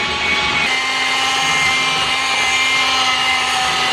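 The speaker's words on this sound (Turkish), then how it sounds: "Kıvamı koyulaşınca mikserin sesi bu şekilde değişiyor." Rechargeable electric hand mixer whisking a thickening pancake or crepe batter, a steady loud whirring motor drone with a slight shift in pitch as the mixture stiffens, heard close and alone.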